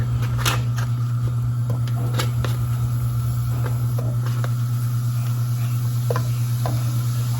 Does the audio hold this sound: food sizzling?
yes